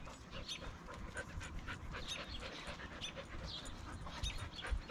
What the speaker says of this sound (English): A lot of heavy breathing going on over there, dogs